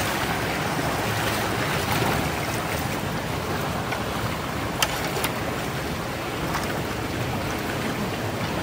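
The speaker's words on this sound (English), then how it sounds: "This is going to take a while for this to drain because there's so much water back up here." Water rushes steadily through a culvert clogged by beavers, a dense, continuous roar that holds at the same level throughout, heard close up with no talking.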